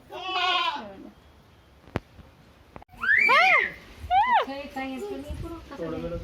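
Goats bleat in a village setting: a few wavering, rising-and-falling cries come close together, separated by quieter gaps with a sharp click, and voices may be mixed in.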